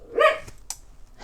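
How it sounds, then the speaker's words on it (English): Fenway, a pet dog, gives a single short, sharp bark close by, followed by a faint softer sound in an otherwise quiet indoor room. "that's my dog Fenway"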